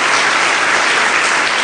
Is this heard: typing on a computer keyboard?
no